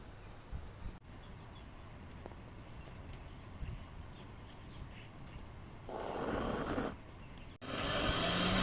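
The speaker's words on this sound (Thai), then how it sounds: "เครื่องจะเริ่มปั่นเสียงดังกว่าเดิม" A CAMEL grain blender and soy milk maker with a 1000 ml jug spins up after heating, a loud steady whirring roar that swells near the end, with brief gaps between bursts and no talk.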